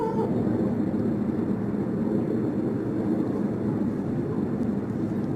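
Low, steady rumble of aircraft passing overhead near an airport, a continuous distant drone with no talk, heard outdoors during a thunderstorm.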